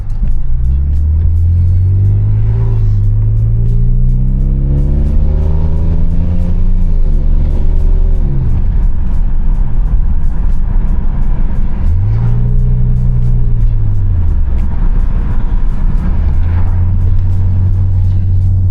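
A 2002 BMW E39 530i drives along, its engine rising through gears in sweeping climbs and falls over a constant road rumble, heard loud from inside the car with no talk.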